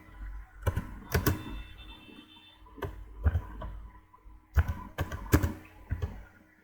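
Bursts of computer keyboard typing come close and clear in short clustered runs separated by pauses, with no talking.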